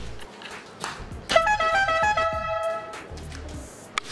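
A 12V DC three-pipe air horn blares indoors for about a second and a half, a loud chord of steady pitches, then fades into room noise.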